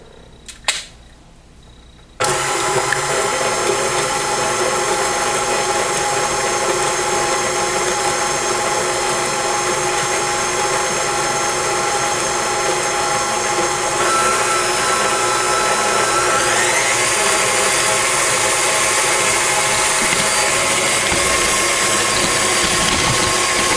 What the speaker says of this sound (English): Now mix it all in, or cream them all together